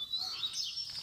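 Coleiro songbirds chirping at a Sunday bird-song gathering, bright high tweets repeating quickly and close by with no talk.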